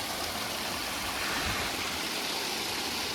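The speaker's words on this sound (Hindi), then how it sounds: "तो जल स्रोत ऐसे निकलते हुए देखो" A mountain stream on the Sat Dhara trail in Lahaul, Himachal Pradesh, rushes in a steady, dense wash of flowing water, close and continuous with no pauses and no voices.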